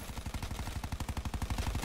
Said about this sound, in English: Why are you hip firing?